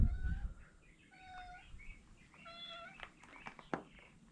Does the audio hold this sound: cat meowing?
yes